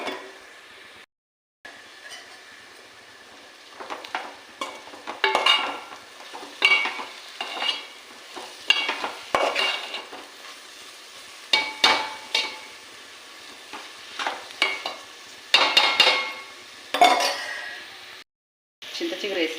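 Tamarind leaves frying in a hot pan with chili powder, stirred in repeated bursts of scraping and sizzling with soft metallic clinks, close and fairly loud, with brief pauses.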